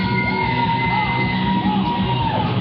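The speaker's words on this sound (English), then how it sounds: "They seem to be cheering on Big V with his monkey." A crowd shouting, yelling and whooping in cheers for a wrestler called Big V, who carries a monkey; the roar is steady and dense throughout, with no single voice standing out.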